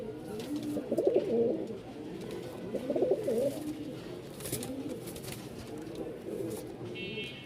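Fancy pigeons such as Bashiraj Kokka, Light Sobji, Lal Sundori and Kaldom coo in a sales enclosure, rolling throaty calls in repeated bursts over a murmuring background.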